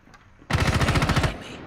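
Automatic gunfire from the video game Rainbow Six Siege: a single loud, rapid burst of about a dozen shots lasting under a second, close and clear with no talk over it.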